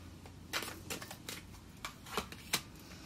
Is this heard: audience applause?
no